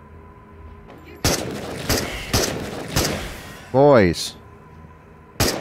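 Gunfire in the shooter game Into The Radius: several sharp, loud shots spaced across the clip, with a short voice exclamation between them.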